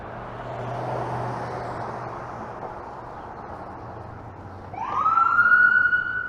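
An emergency vehicle on a Toronto street: traffic hum, then a loud wailing siren sweeps in near the end, rising and close by, with no talking.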